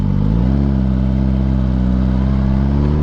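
A Kawasaki Ninja ZX-10R KRT Edition sportbike with launch control engaged holds a loud, steady high-rpm rev after a brief climb at the start, with a dense, buzzing engine tone close to the listener.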